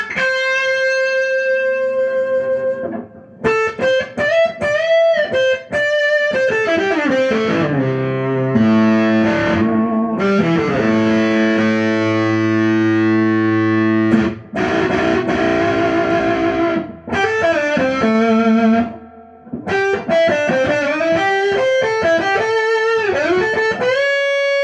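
John Page AJ-K electric guitar played through effects with distortion, ringing chords and sustained melodic lines, loud and up close with brief pauses between phrases.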